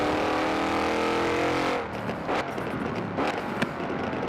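A car engine in Forza Horizon 4 drones loudly in exterior view with a steady, buzzy tone. Partway through it cuts off into rough crackling and popping bursts.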